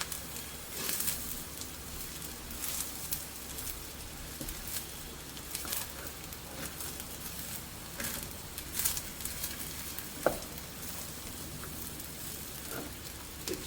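Fried rice with carrot and fried egg being stirred in a pan, a steady sizzling patter with soft scraping and occasional clinks of the utensil, faint and continuous, with no talk.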